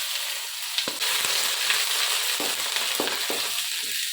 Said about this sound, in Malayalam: ഇഞ്ചിയും വെളുത്തുള്ളി ഇട്ടിട്ട് ഒന്ന് മൂപ്പിക്കാം.